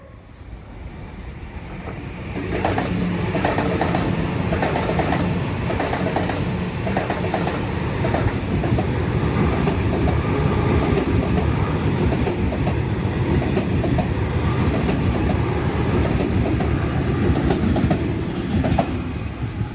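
A Sydney Trains Series 2 Waratah set passes close by, building within a few seconds into a loud, steady rumble of wheels on rail with rhythmic clickety-clack and a faint high whine, holding at full level throughout.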